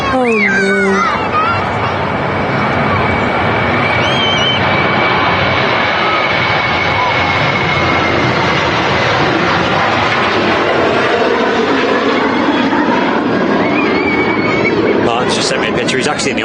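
A Ryanair airliner departs Manchester Airport bound for Corfu, its engines a loud, steady broadband roar that fills the scene, with a sustained whine riding on top while voices chatter faintly underneath.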